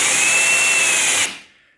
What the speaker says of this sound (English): What we do now is go up to our final or finished hole size using the finished drill bit.